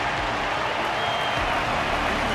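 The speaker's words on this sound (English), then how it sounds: "Their constant applause is a salute to this resilient Belabogian fighter." Audience applause for a resilient Belabogian fighter at a match in the game Honkai: Star Rail, a dense continuous clapping roar from a large crowd, with some voices mixed in.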